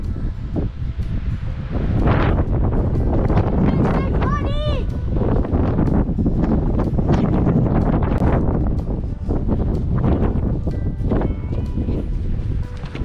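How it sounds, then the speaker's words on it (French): Strong wind buffets the microphone throughout at Dead Horse Point in Canyonlands, Utah, a steady roaring rush with gusty low rumble; a bird chirps briefly partway through. "il y a énormément de vent"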